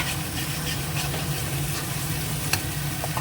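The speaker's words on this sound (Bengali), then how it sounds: "ভালো করে এটা মিশিয়ে নিচ্ছি" Spice paste frying in a pan in a home kitchen, with a steady close sizzle and a soft scrape from a stirring spoon, and a brief clink near the end.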